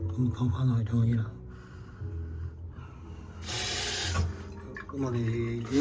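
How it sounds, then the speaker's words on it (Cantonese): Hot water running from a repaired Remer tap, a bright hissing gush starting midway and stopping after about a second, between stretches of someone talking. "我哋已經開咗熱水啦，聽到熱水聲"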